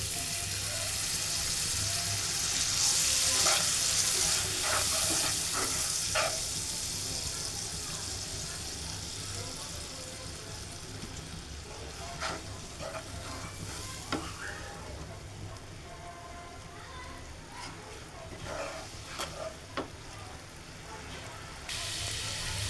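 Spice paste for a tilapia curry sizzles in a pan after a splash of water is added, a loud hiss at first easing into a steady fry with scattered scrapes and knocks of a stirring spoon.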